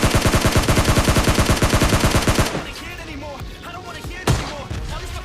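Rapid automatic gunfire from a video game bursts loudly for about two and a half seconds, then gives way to scattered quieter game sounds and one sharp late shot; no shotgun headshot blast stands out clearly.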